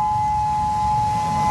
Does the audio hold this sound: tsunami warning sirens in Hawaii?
yes